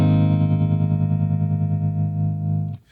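A guitar through a Keeley Hydra pedal plays a sustained, distorted chord, its tone pulsing and sweeping gently as the stereo panning effect moves, then ringing out and stopping near the end.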